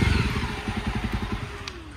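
A Jawa Bobber motorcycle with a loud aftermarket exhaust thumps nearby at low revs, its engine pulsing in an even, throbbing rhythm that is strongest at first and then settles slightly.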